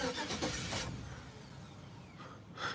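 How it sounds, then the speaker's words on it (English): A 2000 Chevrolet Silverado short-bed single-cab pickup with a 4.8 engine and a rough idle cranks and tries to start, giving bursts of engine noise at the start and again at the end. "It's a 2000 Silverado, short bed, single cab. And let's fire it up for you guys."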